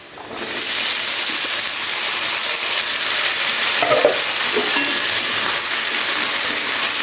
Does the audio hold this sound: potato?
yes